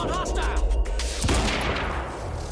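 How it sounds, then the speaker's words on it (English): Gunfire from the shooter game Quantum Break crackles in a dense burst of shots, loud and close, with a voice mixed in under the noise. "I shot you in the neck."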